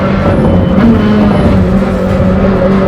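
Lamborghini Temerario engine droning steadily with a loud, continuous car-engine tone, sustained near high revs throughout with no voices over it.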